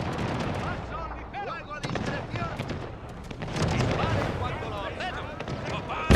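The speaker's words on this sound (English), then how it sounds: "Two-pounder artillery." Two-pounder artillery pieces in Pike & Shot Total War fire amid a dense battle din, scattered sharp booms and cracks over a constant roar of musketry, shouting and distant explosions.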